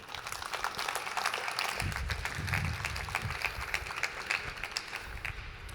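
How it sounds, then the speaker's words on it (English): Audience applause after a talk on cryptography packages in the Julia programming language, a modest, steady patter of clapping from a small crowd lasting several seconds at moderate volume, heard alone. "Round of applause"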